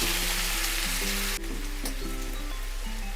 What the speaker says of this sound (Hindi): टमाटर को बहुत ज़्यादा नहीं भूनेंगे, आधा मिनट से भी कम